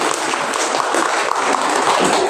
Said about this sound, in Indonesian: Tepuk tangan sekali lagi Bapak Ibu.